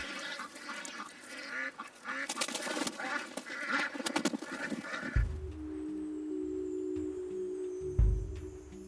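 Ducks outdoors scatter as a leopard cat attacks them: busy flapping and squawking commotion, followed by a loud, close run of honking quacks near the end.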